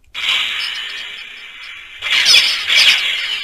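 A small 24mm 3W bass speaker board plays a sound profile: a loud, high, steady squealing tone, then a louder buzzy burst that pulses twice toward the end.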